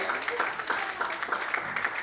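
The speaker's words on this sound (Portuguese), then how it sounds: "Feche os olhos, aplauda o Senhor, queridos." Congregation in a church service applauding, a steady dense wash of many hands clapping at moderate loudness, with faint voices mixed in.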